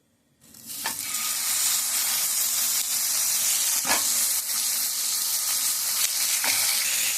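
Slices of ghorkyan tuber frying on a tawa in ghee with cumin, a loud continuous sizzle starting abruptly and holding steady, with a few brief scraping clicks.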